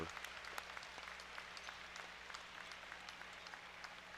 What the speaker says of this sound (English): And now the fans applauding here